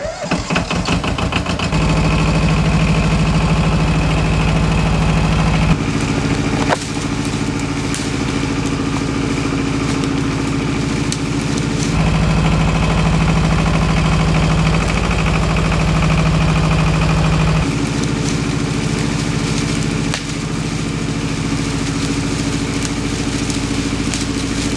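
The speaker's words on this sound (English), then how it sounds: "this little tractor's got some power to it" A rebuilt Yanmar compact tractor engine runs steadily at close range, a loud continuous diesel drone with a low throb and a mid-pitched tone that shifts slightly as the revs change.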